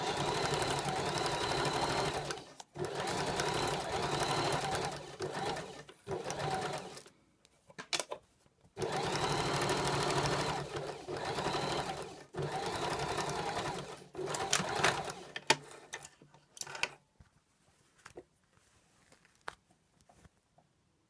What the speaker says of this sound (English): I'm going to just stitch along the line that I've already made here